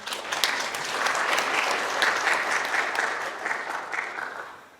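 Many attendees applaud for the guests at a Daejeon youth council event, a sustained, moderately loud roll of clapping from a seated audience that gradually tapers away at the close.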